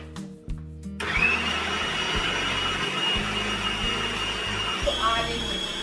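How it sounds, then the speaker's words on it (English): A blender grinds black-eyed beans for moi moi, starting abruptly and running as a loud, steady motor whine, with a voice talking briefly under it. "Put it in a food processor or in your blender."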